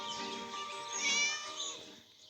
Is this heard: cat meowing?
yes